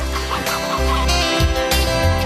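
Hens clucking in a French TV advert for free-range eggs, steady and fairly loud clucks layered over music that runs throughout.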